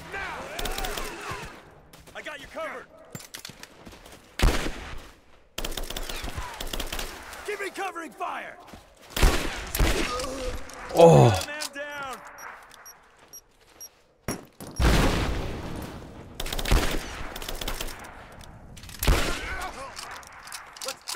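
Gunfire rings out during the railyard battle in Rise of the Tomb Raider as scattered sharp bursts and volleys, with pauses between them and voices talking in between.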